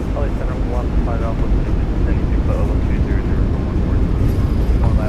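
Thrust reversers roar on a Boeing 737 MAX 8 landing in a flight simulator, a loud, dense, continuous engine rush that holds steady throughout while a voice talks over it.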